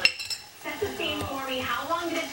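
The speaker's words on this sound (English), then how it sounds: "Stir this up a little bit so it doesn't start sticking on the bottom." Spices including chili powder and cumin stirred in a pot with a metal utensil, giving scraping clinks over a faint sizzle while someone talks.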